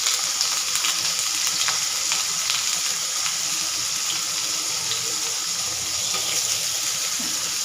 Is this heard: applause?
no